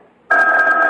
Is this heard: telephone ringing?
yes